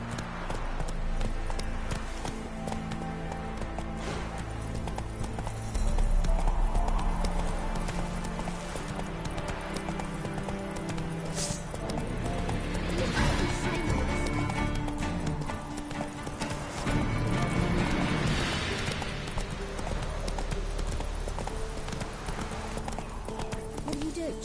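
Hoofbeats of Roach, the horse in The Witcher 3, pound steadily in a continuous clip-clop gallop, close and prominent, layered with game music, ambient sound and an occasional whinny, with voices talking over parts of it.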